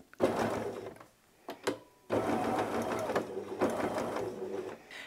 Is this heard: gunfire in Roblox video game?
no